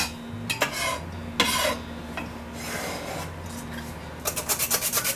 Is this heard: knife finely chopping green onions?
yes